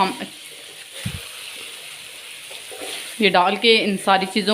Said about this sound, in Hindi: सारी वेजिटेबल्स को हमने 1 से 2 मिनट के लिए अच्छे से फ्राई कर लिया है।